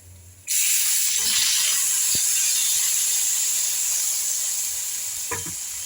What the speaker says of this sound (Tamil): புளி தண்ணி எடுத்து ஊற்றிக்கணும்.